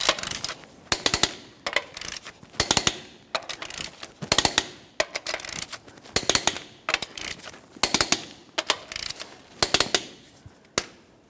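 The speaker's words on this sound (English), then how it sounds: "We can continue on torquing each one of our 21mm lug nuts to 150 foot-pounds" A torque wrench tightens 21mm lug nuts on a 2004-2008 Ford F-150 wheel, sharp ratcheting clicks arriving in repeated close bursts separated by short pauses, with no talking.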